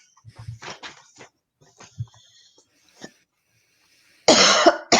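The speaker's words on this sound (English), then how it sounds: "coughing much better there" A person coughs several times in short bursts, followed by a loud, harsh cough at the end, with quiet pauses between.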